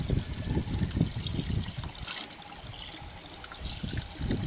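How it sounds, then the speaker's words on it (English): Antifreeze and distilled water mixed 50-50 are poured into the radiator of an Astro van during a cooling system flush, making a steady close trickle and gurgle of liquid with a low rumbling undertone. "I'm filling it with a 50-50 solution mix of antifreeze and distilled water."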